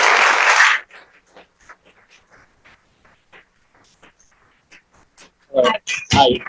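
Applause at a city council meeting, a brief burst of clapping at the start that stops within a second, followed by quiet room noise and then a voice speaking near the end.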